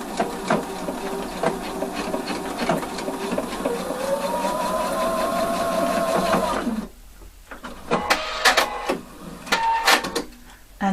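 A sewing machine stitches a short 1 cm seam across one end of a folded denim button-fly piece for jeans. It runs as a steady close whir for about seven seconds, then gives a few shorter bursts with quiet gaps.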